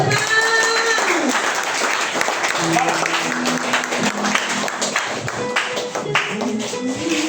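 Applause fills a church service during a baptism and deliverance moment, a continuous wash of clapping from the congregation with voices and sustained tones mixed in, and a brief spoken word near the start.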